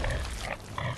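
A pig in the video game Bloodborne gives a brief, rough grunting oink, close and fairly loud, lasting about a second with no speech.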